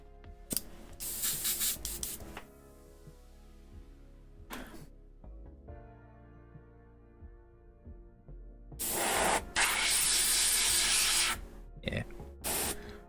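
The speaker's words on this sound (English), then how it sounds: "let's spray it and see what happens" Aerosol spray paint hisses onto a guitar body being painted in a Big Trouble in Little China design, in two close bursts: a shorter blast near the start and a longer, louder one later, with quieter handling noises between.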